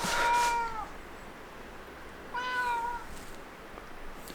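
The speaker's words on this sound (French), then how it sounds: "Je me fais engueuler par mon chat." A domestic cat gives two drawn-out, insistent meows about two seconds apart, close and clear in a quiet indoor room, with nothing else heard between the calls.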